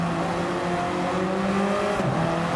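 Touring race cars in a WTCC sim racing game brake into a corner, their engines droning steadily before a sharp drop in pitch as they downshift.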